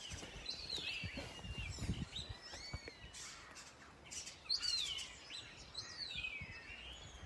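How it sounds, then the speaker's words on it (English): Several seagulls call outdoors on a foggy day, their bright rising and falling cries overlapping at moderate distance over a steady background hiss. "But the birds you hear most of all are the seagulls."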